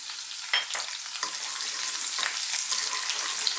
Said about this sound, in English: Let's get started by dropping in that garlic.